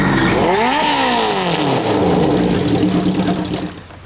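A superhero's motorbike roars off in a family sitcom scene, the engine loud and close, with a rising, swooping pitch as it pulls away before fading slightly.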